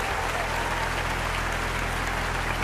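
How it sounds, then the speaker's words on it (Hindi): An audience applauds at a comedy show in dense, loud, continuous clapping that holds steady throughout. "और अब की बार आपकी तालियां उठेंगी।"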